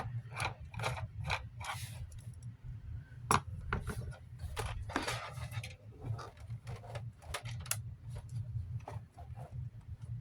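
Screws are worked loose from a Bionaire mini oscillating tower fan with a screwdriver, a quiet close-up string of irregular clicks and ratcheting ticks over a faint low hum, with no talking.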